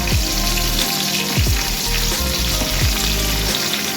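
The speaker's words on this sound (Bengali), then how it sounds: "একটুখানি ভাজা হোক" Ginger and capsicum fry in a pan for chili chicken, giving a steady loud sizzle with a few scraping stirs cutting through, and no voices.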